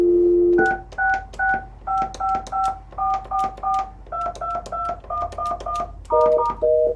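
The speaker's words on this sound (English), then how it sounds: "if I hit the dial tone and dial some touch tones" A dial tone hums briefly, then a rapid series of touch-tone beeps follows in quick, evenly spaced pairs, clear and close.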